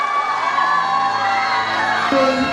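A crowd at the Miss Rai 2012 beauty pageant cheers and shouts loudly, a dense sustained roar of voices with whoops rising near the end.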